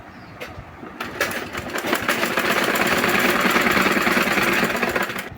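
A sewing machine stitches stretched elastic onto a hijab, its motor and needle building into a fast, steady rattling hum that runs loud and close for several seconds before easing off, with no talking.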